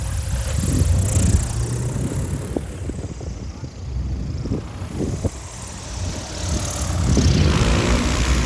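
A STOL propeller aircraft drones loudly through a drag event at the Reno Air Races, its engine rising and easing with wind-buffeted outdoor noise.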